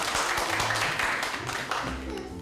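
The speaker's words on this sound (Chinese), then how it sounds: "准备拍拍手哦，然后欢迎我们的帅哥爷爷" A children's audience claps to welcome a storyteller grandfather, with dense, scattered applause continuing steadily at moderate loudness and faint voices mixed in.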